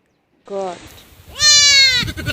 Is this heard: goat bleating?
yes